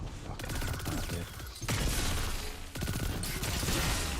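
Rapid SMG gunfire in the video game Destiny 2, dense sustained bursts in three close, loud stretches with brief gaps between them, set against game effects.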